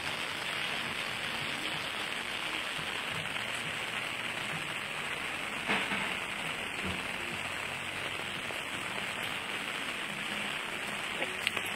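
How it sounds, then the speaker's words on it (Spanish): Steady rain falls on the streets of Besalú, a Catalan village, a continuous soft hiss of drops on surfaces with occasional closer patters, moderately quiet and with no voices. "Empezó a llover."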